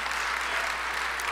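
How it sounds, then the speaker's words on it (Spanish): Congregation applauding at a church conference, a steady dense wash of clapping heard briefly and at moderate distance. "Dale un aplauso al Señor."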